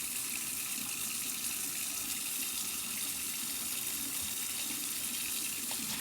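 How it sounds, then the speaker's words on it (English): Running tap water rinses a pot used for gtube feeding, making a steady, even rush and splash into a sink that continues unbroken at moderate volume. "I always wash my pot."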